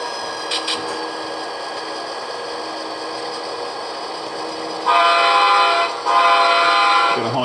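A train horn blares loud and close during rail switching operations, a sustained harmonic blast that steps up sharply in volume partway through, with a short break before sounding again, no talking.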